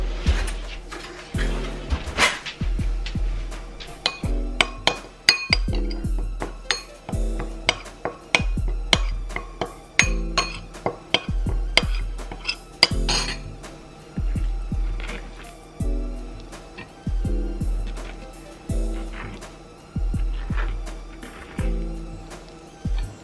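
A spoon knocks and scrapes around a bowl while chicken pieces are tossed, giving a string of irregular clinks and clatters with short pauses between strokes.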